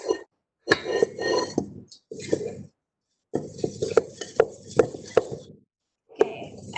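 Hot cross bun batter is stirred in a bowl, with clinking and scraping strokes in uneven bursts separated by short pauses, close and moderately loud.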